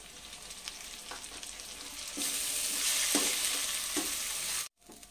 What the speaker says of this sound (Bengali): এবার ওই পেঁয়াজ ভাজার মধ্যে পেঁয়াজ বাটা দিয়ে দিচ্ছি